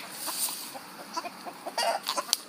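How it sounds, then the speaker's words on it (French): Silver-blue rooster and hens cluck in short bursts at close range, a quick run of soft clucks and sharper calls in uneven rhythm, with no voices. "De plus près, mon coq bleu argenté."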